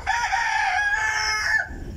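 A rooster crows loudly and close by in one drawn-out call, ending abruptly with a brief cluck-like murmur.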